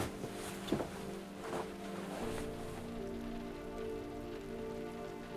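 Rain falling steadily in the video game Road 96, a continuous soft wash of drops on a surface with a few brighter splashes early on, moderately loud and without voices.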